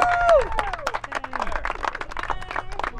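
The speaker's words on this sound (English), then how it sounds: "How about a round of applause for this World War II" A small group claps and someone whoops briefly for a World War II veteran just back from his flight, with a quick burst of applause, close and over in a few seconds.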